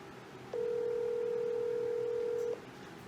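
A telephone line gives a single steady electronic tone lasting about two seconds, clear and even over a low background hiss, then cuts off.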